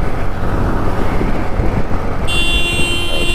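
A Yamaha MT-15 motorcycle's engine drones loud and steady while being ridden hard with its VVA engaged. A continuous rumble fills the whole stretch, and a thin high whine joins it near the end.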